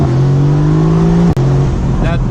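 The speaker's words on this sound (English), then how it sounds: "those downshifts, those crackles, those pops from the exhaust are so loud" A loud Mercedes-AMG GT C engine drones steadily with a brief cut in the middle during a gearshift, then resumes with a quick rising rev and faint exhaust crackles near the end.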